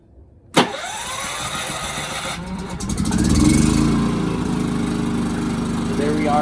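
A Firman portable generator fed from an RV's onboard propane line cranks with a sudden pull, catches, and settles into a steady, loud, close engine drone that builds slightly and keeps running.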